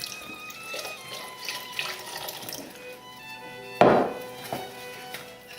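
Water runs from a kitchen tap into a pan of thick beef gravy on low heat, a steady splashing stream joined by a sharper pour and clatter near the end, close by with no talking.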